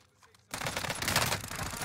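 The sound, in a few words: gunfire in Call of Duty Warzone video game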